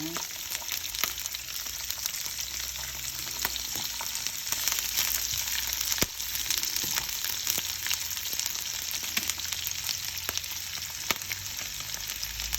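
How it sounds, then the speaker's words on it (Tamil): Mustard seeds and onion frying in hot oil for carrot varuval give a close, steady crackling sizzle with scattered sharp pops and clicks that hold evenly throughout. "கடுகை போடுங்க. அப்புறம் வெங்காயத்தை போடுங்க."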